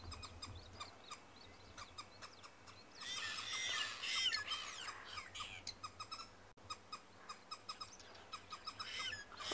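Green wood hoopoes in Kenya's Maasai Mara give squeaky, chattering calls. A loud burst of squeals rises mid-way over a low outdoor hum, then repeated sharp call notes follow, moderately close.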